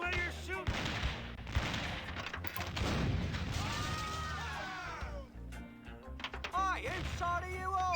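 Cannon fire in The Curse of Monkey Island: a few loud, abrupt booming shots with rumbling tails, spaced apart among cartoonish game sounds and effects.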